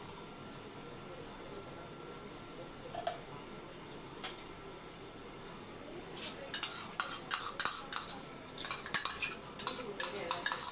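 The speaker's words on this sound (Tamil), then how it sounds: "இப்போ தயிரை ஊற்றிடலாம்" A spoon scrapes and clinks against a bowl as curd is poured and stirred, soft at first, then busier and louder toward the end.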